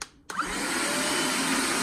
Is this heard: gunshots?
no